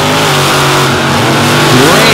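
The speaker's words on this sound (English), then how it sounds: "two of the loudest trucks in the industry right now" Two loud monster truck engines roar together at the starting line of a head-to-head race in Brooksville, a sustained, dense revving drone that swells near the end, with an announcer's voice over it.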